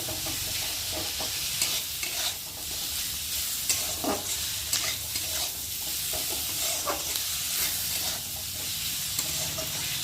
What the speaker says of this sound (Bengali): আলুর সাথে টমেটোটা ভালো করে কষিয়ে নেব